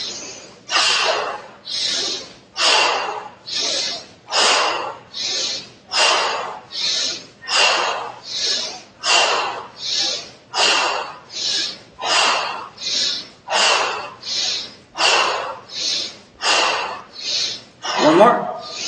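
Deep, rhythmic breaths during a yoga exercise, about twenty strong audible inhales and exhales in a steady cycle, close and loud, with no talking.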